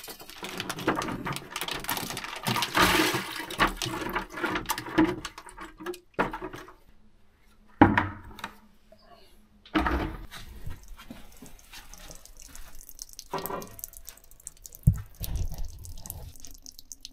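Water drips and trickles inside a flooded old cellar, irregular splashes and drops sounding close and echoey, with quieter gaps and occasional louder knocks between them.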